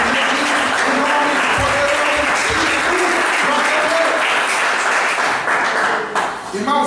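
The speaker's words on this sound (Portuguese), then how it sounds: "Dá uma salva de palmas" A church congregation at a Thursday evening service claps and applauds steadily and loudly for the whole stretch, a dense wash of hands with a voice speaking faintly underneath.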